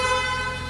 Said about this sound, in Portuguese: essa é a buzina do carro.